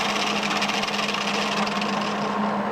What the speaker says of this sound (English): Grind that weld a little bit.